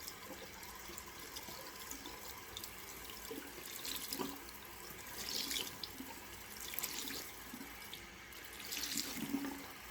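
Tap water runs into a sink while a cloth is wetted under it, a steady splashing stream with intermittent louder gushes and drips, no voices.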